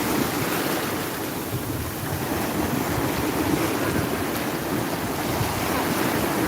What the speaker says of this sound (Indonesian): Untuk suasananya ya seperti ini guys, kalau di pantai.